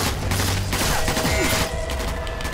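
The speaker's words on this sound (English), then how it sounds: "Headshot while sound masked with my bloody Thompson." A Thompson submachine gun fires in Sniper Elite 4 amid dense game combat, with rapid overlapping shots and booms forming a loud, continuous barrage throughout.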